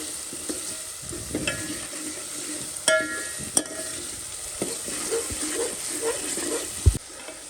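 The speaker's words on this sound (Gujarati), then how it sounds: "હળદર, ધાણા જીરું, આ બધા મસાલા આપણે પકાવશું" Turmeric and coriander-cumin powder sizzle in a pan while being stirred for a Kathiyawadi olo, a steady close frying hiss broken by a few scraping knocks from the spoon, with no talking.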